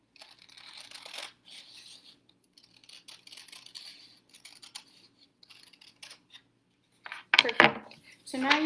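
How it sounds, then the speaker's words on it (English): Quiet, intermittent snips and rustles of scissors cutting paper along a crease, ending with a few louder, sharper cuts up close. "I'm going to use my scissors and just cut one line down that crease"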